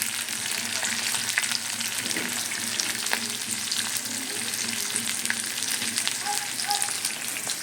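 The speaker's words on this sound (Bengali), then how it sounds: "লাল লাল হয়ে যেতে আমি আদা রসুনের পেস্ট দিয়ে দিয়েছি।" Ginger garlic paste frying in a pan while being stirred, a dense steady sizzle with occasional scraping clinks, close and continuous and free of speech.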